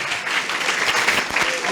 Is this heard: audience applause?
yes